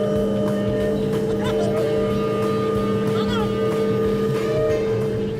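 A Volvo excavator's engine drones loudly and steadily while it pushes over a large tree during stump removal, with faint clanks and creaks riding on the constant hum.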